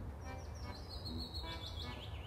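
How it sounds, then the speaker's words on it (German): A crow calls in the video game Otherworld: Spring of Shadows, a run of faint, quick, high chirping cries repeating over a low background hum. "Da ist eine Krähe"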